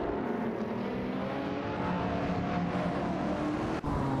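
Engines of race cars in a racing video game, including a Wiesmann GT MF5 and a Lamborghini Murcielago SV, drone steadily with rising and falling pitch and a brief cut near the end.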